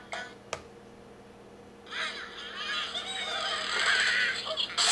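Cartoon bird calls and squawks from the Angry Birds game playing on a Herotab M6 tablet, a sharp click first, then a rising chatter of bird cries that grows louder and busier, with no talking.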